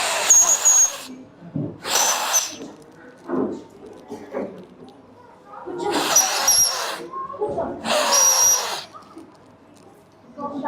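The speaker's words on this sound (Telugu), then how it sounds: "విజిల్ వేద్దామా? విజిల్." Children at an anganwadi centre blow whistles in four breathy, hissing bursts with a thin high tone, separated by pauses filled with nearby voices and room noise.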